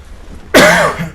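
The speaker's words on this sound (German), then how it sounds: "Und jetzt, wo ich am Aufnehmen bin, natürlich, was passiert? Ich muss husten." A single sharp cough bursts out close to the microphone after a brief quiet, followed by a short throaty tail.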